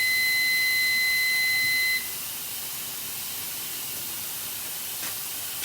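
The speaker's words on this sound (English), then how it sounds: "the timer just went off" A timer beeps with a steady high tone for about two seconds in a kitchen during pressure canning of black beans, then cuts off, leaving a loud continuous hiss of venting steam.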